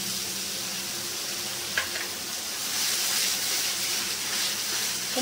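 Tomato and cashew paste sautés in hot oil in a pan, giving a steady close sizzle and frying hiss throughout with a brief stir scrape near the middle and no talk.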